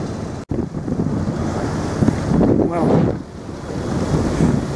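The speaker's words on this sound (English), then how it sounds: "Today's a nice day and it's still choppy as hell in this channel." Choppy sea in a channel, heard from a boat as a constant surging wash of waves under heavy wind buffeting on the microphone, loud and close throughout.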